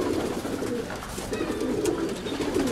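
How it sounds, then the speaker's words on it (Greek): Pigeons coo continuously at close range, a soft burbling chorus with occasional wing rustles and no talk. "Αυτά εδώ ήταν τα περιστέρια."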